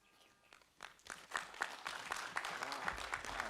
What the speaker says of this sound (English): Friends, a bigger hand clap.